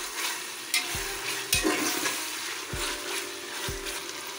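Ginger garlic paste frying with chicken in a pan for pulao, a constant loud sizzle with regular scraping stirs of a spoon every second or so.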